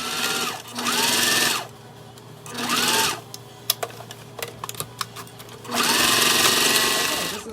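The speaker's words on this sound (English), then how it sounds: "Now we're going to top stitch that." A sewing machine top stitches a fabric wristlet near a zipper in three loud, steady motor runs separated by pauses, with faint clicks and handling noises between runs.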